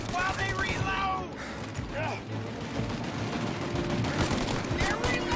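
Machine-gun fire from the Mafia Definitive Edition video game keeps up a steady, dense rattle with a few voiced shouts at the start, staying fairly loud throughout.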